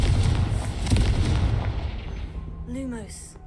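A Confringo fire spell explodes in Hogwarts Legacy: a loud, rumbling blast that rolls off gradually, followed by a rising magical shimmer near the end.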